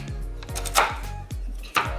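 A knife chopping pecans on a cutting board while making a sweet potato bourbon pecan pie, giving a few loud, close, irregular thuds with a sharper impact near the middle and end.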